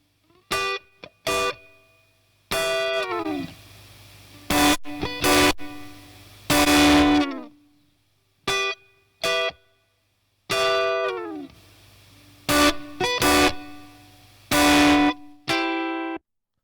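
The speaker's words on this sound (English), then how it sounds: "So you can hear you can get quite a bit of distortion if you really want to." Bursts of heavily distorted, fuzzy guitar-like tones in short separated phrases from a Neve 1084 preamp plugin, buzzing and harsh, with brief silences between each burst.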